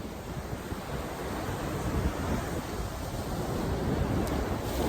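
Ocean waves wash onto a shore in Greece as a steady broadband rush, loud and continuous, mixed with wind buffeting the microphone, with no voices.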